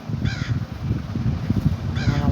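A crow caws loudly and close by, giving two harsh calls with a pause between them, with no voices present.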